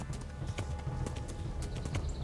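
Horse hooves in Kingdom Come: Deliverance clip-clop at a steady riding gait, loud and close, with a continuous rumble of movement beneath and no talking.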